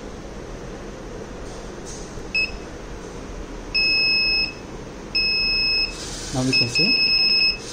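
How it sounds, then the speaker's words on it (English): Repeated electronic buzzer beeps from an Arduino Nano pothole and obstacle detector in short bursts, steady high tones starting and stopping, with someone speaking briefly over a faint background hum. "it is giving us a buzzer alert and red light indication"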